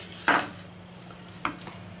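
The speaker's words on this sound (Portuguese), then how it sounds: "Eu agora vou colocar aqui uma colher de açúcar" A spoon knocks against a mixing bowl while adding sugar to dough of wholemeal and white flour with egg, two distinct clinks about a second apart, close and fairly quiet.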